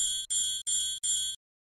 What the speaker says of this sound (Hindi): जैसे ही विद्युत घंटी का परिपथ पूर्ण होता है ध्वनि सुनाई पड़ती है